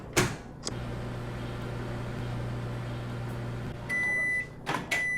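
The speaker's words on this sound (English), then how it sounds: "Fine, you want the microwave power? You'll get the microwave power." A microwave oven starts with a door clunk and runs with a steady low hum, then gives a series of high electronic beeps before the door bangs open near the end.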